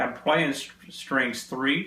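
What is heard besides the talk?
No everyday noise stands out behind the speech.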